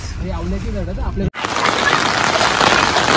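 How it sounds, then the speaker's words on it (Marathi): Rain falls in a dense, steady hiss during an off-road trip toward a waterfall. It starts abruptly after a brief cutoff, following a moment of someone talking, then continues loud and unbroken. "पाऊस सुद्धा थोडंसं कमी झालंय"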